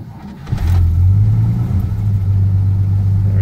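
A cold 1951 Chrysler Windsor engine catches and settles into a steady, loud fast idle, its low throbbing drone running on evenly close by.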